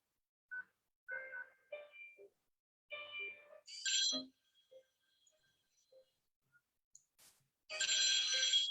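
Outgoing phone call left unanswered: short electronic ringtone and dialing tones in separate bursts with silent gaps, ending in a louder, fuller ring, close and clear with no talk.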